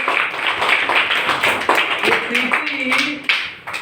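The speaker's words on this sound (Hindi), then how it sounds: "ताली बजाइए इनके लिए।" Schoolchildren clapping for a classmate in a classroom, a brisk burst of scattered hand claps that runs through the whole stretch, with voices mixed in over it.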